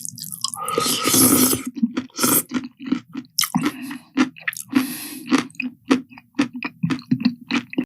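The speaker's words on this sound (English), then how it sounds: "Which is very crunchy sounding spaghetti." AI-generated Will Smith eats spaghetti with loud, wet, crunchy chewing and biting, close up in an irregular rhythm of squishy bites and smacks, with no talk.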